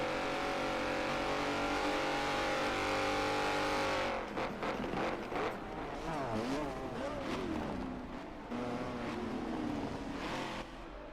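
GT4 race cars at Suzuka circuit roar past with loud, sustained engine drones, then several cars pass in quick succession with rising and falling revs, forming a dense, continuous racing din with no talk.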